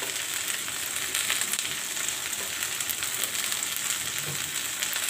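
Sliced okra fries in a pan with a steady, bright sizzle and faint crackles throughout, close and continuous with no voices.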